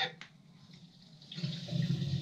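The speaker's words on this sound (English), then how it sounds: "Hear the water go through." Water rushes through a flushometer valve after a repair, starting as a soft hiss and swelling into a louder, steady flow toward the end.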